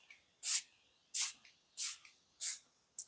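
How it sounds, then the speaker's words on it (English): Fine facial mist spritzed from a shaken spray bottle in a quiet room: five short, soft hissing bursts spaced about half a second apart, close and fairly loud, with no talking. "I don't know whether you caught the spray there, but it is very, very fine"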